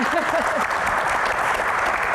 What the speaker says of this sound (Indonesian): tepuk tangan semangat dulu buat Ibu Iren ya.